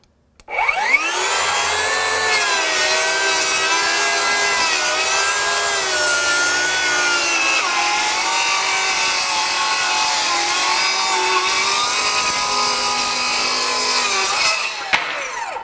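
A Metabo HPT "The Stud" 36-volt 7-1/4-inch torque-boost cordless circular saw (C3607DBQ4) cuts through wood in one long, loud, steady whine of about fourteen seconds, with slight shifts in pitch as it loads, and then spins down.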